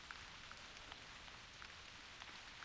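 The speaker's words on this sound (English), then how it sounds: "Otherwise, we hear a lot of rain and it's a bit annoying, the noise of the rain." Rain falling in the hunting video game theHunter Classic while stalking blacktail deer: a steady, fairly faint hiss of rain with scattered soft drop ticks, continuous and alone.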